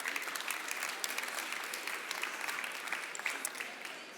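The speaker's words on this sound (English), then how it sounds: "Let's give them a big round of applause for their invaluable contributions." Audience applause at a life science startup pitch competition, a continuous wash of clapping, moderately distant and fairly quiet, tapering slightly at the end.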